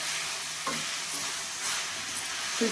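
Brinjal pieces frying in oil with salt and turmeric over a small flame, a steady hiss of sizzling with occasional stirring scrapes, close and continuous.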